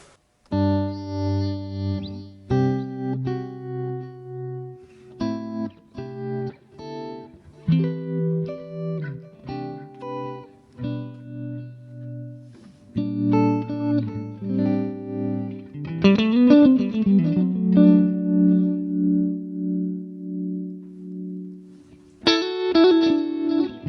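Electric guitar processed through a Line 6 Pod Go modeler plays a series of distorted, chorused notes and chords with short pauses between phrases, clean and close.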